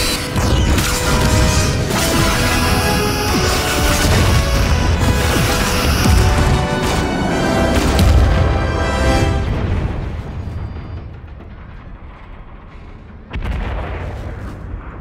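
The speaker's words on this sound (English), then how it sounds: "Torpedoes away, locking phasers and returning fire." Star Trek starship torpedo launches and phaser fire on the Enterprise-D: loud, continuous booming blasts and energy bursts that fade to a lower rumble before a final surge.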